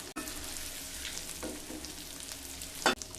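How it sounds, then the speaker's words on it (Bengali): Pieces of chicken fry in hot oil for a Bengali shile bata murgi curry, a steady close sizzle with occasional stirring scrapes and a brief louder hiss near the end, with no talking. "চিকেনগুলোকে খুব ভালো করে ভেজে নিয়ে তারপর ফিরে আসছি।"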